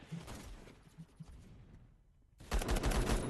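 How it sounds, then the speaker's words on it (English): Rapid automatic gunfire in the online shooter Phantom Forces, a dense burst of close shots at first, tapering into quieter scattered fire, then a loud sustained volley erupting near the end. "this guy's just firing away on this side without a worry in the world"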